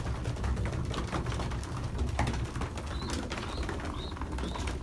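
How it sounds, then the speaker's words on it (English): Pigeons in a loft after feeding, giving soft repeated coos over a dense background of rustling, pecking and wing movement, close by and without talk. "I just fed the pigeons."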